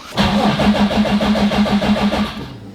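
A Subaru WRX engine cranks over slowly in the cold with a steady, labored rhythmic churning, loud and close, without catching.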